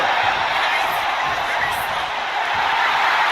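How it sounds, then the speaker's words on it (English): Steady roaring arena crowd noise from a WWE 2K25 wrestling match, a continuous broadband wash holding at even loudness throughout with no distinct claps or voices standing out. "Cargill drawing a big reaction from the crowd"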